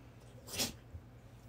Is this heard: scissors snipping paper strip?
no